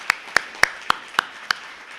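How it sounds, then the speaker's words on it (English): A few sparse handclaps at SudokuCon, a puzzle convention, about six sharp claps in quick succession, thin and fairly quiet rather than a full crowd's applause. "Can we get a round of applause,"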